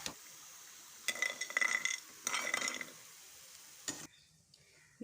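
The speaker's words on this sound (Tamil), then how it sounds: "இப்போ நம்ம முந்திரி பக்கோடாவை எடுத்துடலாம்." Fried cashew pakoda is scooped from bubbling oil with a metal ladle, giving two bursts of clattering, sizzling scrapes and a sharp clink, followed by a near-silent pause.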